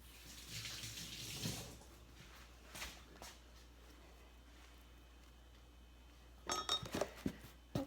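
Tap water runs and splashes over hands while sourdough is being made, in faint bursts at the start and again near the end, with a quiet stretch between.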